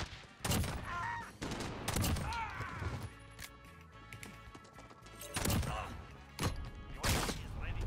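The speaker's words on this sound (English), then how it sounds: "Fire shotgun, there it is." Several heavy shotgun blasts in the Call of Duty Modern Warfare video game, loud booming shots spaced a second or two apart with sharp impacts between them, over quieter game ambience and occasional talk.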